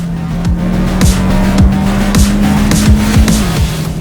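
A Cupra Formentor VZ5 with a 390-horsepower five-cylinder engine drives hard on a track, its loud close drone held at near-steady pitch, broken by quick downward sweeps as it shifts and revs.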